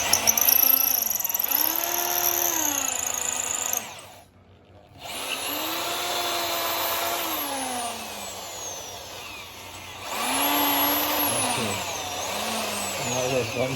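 A power drill whines in long bursts boring through an animal horn for a shofar, pitch rising and falling as it bites, with a short pause in the middle before drilling resumes loudly.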